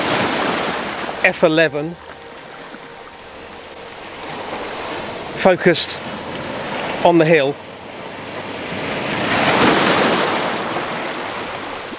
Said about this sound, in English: Just waiting for the waves to break.